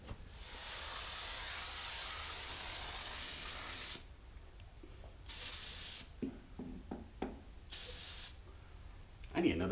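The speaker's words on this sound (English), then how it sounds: "I'm gonna flush this with brake cleaner, being sure to avoid my sensors." Brake cleaner sprays from an aerosol can onto the supercharger of an LSA engine: a long, loud, close hiss followed by several shorter bursts.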